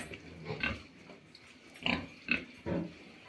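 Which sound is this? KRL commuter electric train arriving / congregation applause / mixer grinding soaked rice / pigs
pigs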